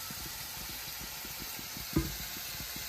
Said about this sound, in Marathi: तर इकडे आता मसाला टाकलेला आहे फ्राय करायला.